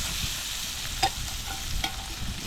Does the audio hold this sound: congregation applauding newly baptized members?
no